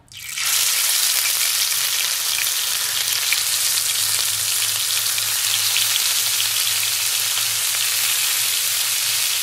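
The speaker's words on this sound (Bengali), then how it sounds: "তেলটা গরম হয়ে গিয়েছে। এখন আমরা হচ্ছে মাংসগুলো দিয়ে দিচ্ছি, কাঠি কাবাবগুলো।" Beef kathi kabab skewers hit hot oil and start a loud, steady frying sizzle that holds evenly from start to finish, close and dense with no talking.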